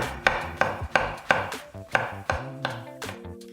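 A knife slices green onion tops on a cutting board, about nine crisp, evenly spaced chops ringing close and clear, alone without voices.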